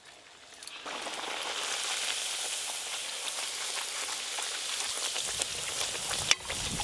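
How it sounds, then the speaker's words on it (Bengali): Radhaballavi, a stuffed flatbread, frying in hot oil. A quiet start gives way to a sudden, sustained, bright sizzle that stays steady, with a sharp knock near the end. "তেল গরম হয়ে গেছে, এবার ভেজে নেব।"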